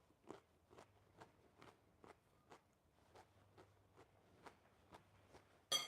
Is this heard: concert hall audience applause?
no